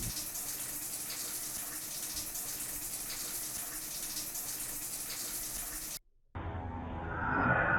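Steady running water, like a tap or shower, in the FPS Creator game Euthanasia (2010), a continuous close broadband rush that cuts out briefly and then returns, swelling louder at the end.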